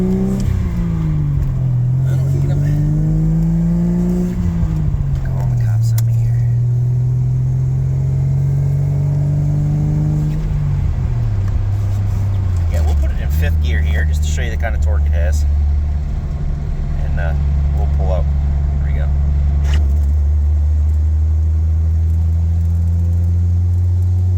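A Jeep Comanche with a swapped Vortec 4200 inline-six drives along at an easy pace, its engine droning loud and close, rising and settling through gear changes as the revs climb and drop steadily.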